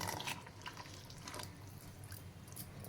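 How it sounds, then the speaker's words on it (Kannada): Water pours from a mixer jar into a pot of horse gram rasam, a steady broadband splash and trickle with a few drips, close and moderately quiet, without talk. "ಅದೇ ಮಿಕ್ಸರ್ ಜಾರಲ್ಲಿ ನಾನು ನೀರೆಲ್ಲ ಫುಲ್ ಹಾಕ್ಕೊಂಡು ನೀರು ಹಾಕ್ತಾಯಿದ್ದೀನಿ"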